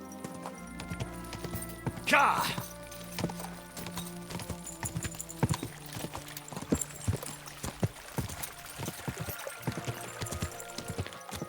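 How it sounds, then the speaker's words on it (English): Horse hooves clop on the ground in Kingdom Come Deliverance 2, with a steady, uneven rhythm of close, distinct footfalls. A rider's short shouts and a faint snort come through over the hoofbeats. "Easy, good horse."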